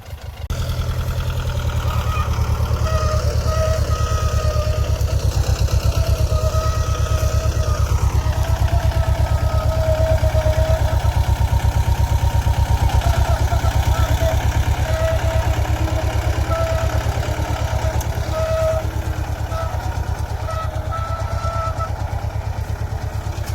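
A tractor engine runs close by throughout while ploughing a farm field, a steady rumbling with a low throbbing idle and a slight change in pitch partway through.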